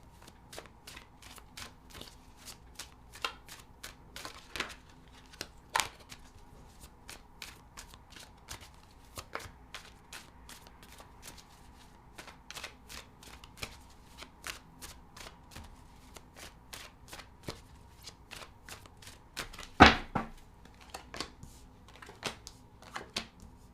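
Tarot cards being shuffled in a quiet room, a long run of soft, irregular flicks and taps with one sharper snap near the end, close and faint.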